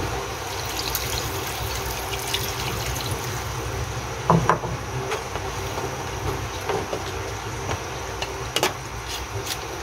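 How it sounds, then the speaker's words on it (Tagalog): Water pours into a cooking pot of pata paksiw, a braised pork hock dish, in a home kitchen: a continuous splashing, trickling rush with a few brief clinks, moderately close and alone. "mag-add tayo ng tubig"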